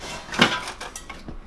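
Cream-coloured Caraway ceramic cookware pans clatter as they are unboxed and handled: one sharp knock, then a few lighter taps and scrapes, close by with no talking.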